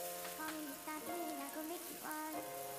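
Chicken burger patties frying in hot vegetable oil in a pan give a continuous bright sizzle. A wavering tonal layer, likely music, plays over it the whole time.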